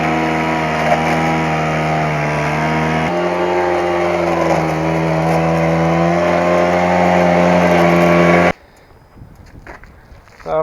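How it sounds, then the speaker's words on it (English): A garden blower converted to vacuum mode, used to clean grass in a back yard, runs as a loud, steady motor drone for about eight seconds, then cuts off abruptly, leaving faint background noise. "I've converted my blower to the vac option"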